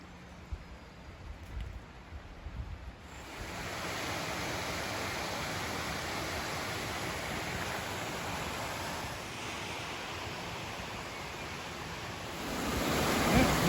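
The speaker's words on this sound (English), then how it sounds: "looking down over the top of the waterfall into the burn" A waterfall pouring into a burn in Dumfries and Galloway, Scotland, gives a steady, broad rush of falling water, quieter at first and then holding loud and constant, nearby.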